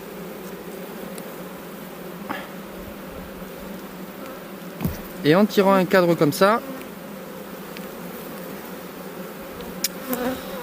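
Bees crowd capped hive frames in spring, a constant low buzz close by, and someone speaks French briefly over the humming partway through.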